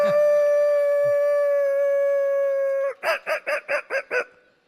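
A human voice imitates a dog calling for food, holding one long, loud, steady howl and then breaking into a quick run of six or seven short yelping barks.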